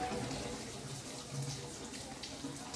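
Soft, continuous hiss of running water, fairly faint and steady, with faint voices in the background.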